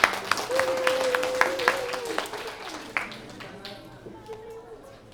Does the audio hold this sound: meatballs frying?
no